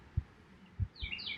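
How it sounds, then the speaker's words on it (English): A bird gives a few faint, high chirps near the end, over soft background hiss and a couple of dull low thumps. "you might be listening to the sound of the bird right now, calling"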